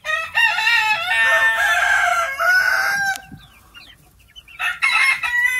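Chickens cluck and a rooster crows loudly and close by in a backyard coop, with several overlapping calls, a short lull, then another burst of crowing near the end.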